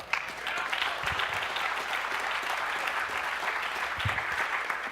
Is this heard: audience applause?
yes